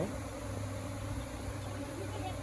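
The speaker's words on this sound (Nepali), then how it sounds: "मौरी चाहिँ यहाँ रमाइलो गरिरहेको छ" Honeybees fly in a swarm around a hive, a steady close buzzing drone that runs through the whole stretch without a break.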